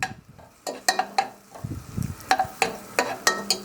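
Lardons dropped into butter in a pan over low heat: a soft sizzle under repeated clinks and scrapes of stirring, close and busy, with no voices.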